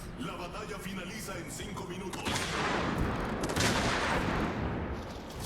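Rockets fire during a naval battle video game, a dense rolling barrage of booms and crackling blasts that thickens midway and stays loud to the end, with faint talk underneath.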